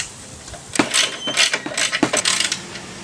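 Bolts and nuts on a cooler mount are tightened by hand, giving a close series of quick metallic ratcheting clicks and scrapes in uneven bursts, moderately loud and without speech.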